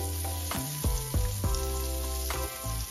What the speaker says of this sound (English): Our pan is nice and hot. I'm gonna put a little butter in here.